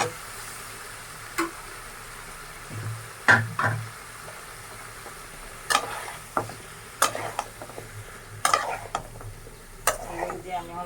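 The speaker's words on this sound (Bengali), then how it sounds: "কষাই নিব এই সবজিটা" Mixed vegetables for a Bengali niramish labra, including ridge gourd, sponge gourd and pointed gourd, stirred and sautéed in a pan, with intermittent scraping and clattering strokes over a faint sizzle, close and moderately loud.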